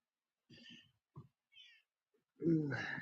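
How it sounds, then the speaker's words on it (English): A house cat meows in a few short, faint calls indoors, followed by a louder, drawn-out meow near the end. "Oh, here's the cat."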